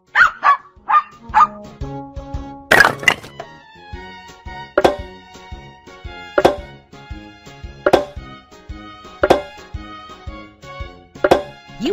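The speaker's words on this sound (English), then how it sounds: "Dog." A dog barks in an animated animal puzzle for kids: a quick cluster of yips, then a long run of loud, close barks repeating at a regular, almost musical pace.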